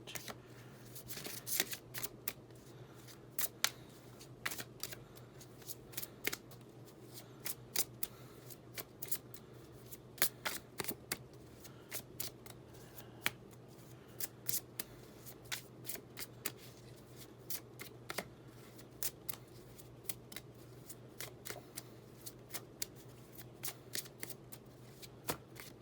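A deck of Earth Magic Oracle cards is shuffled by hand, a steady run of crisp riffling snaps and flicks close up, repeating throughout with no talking.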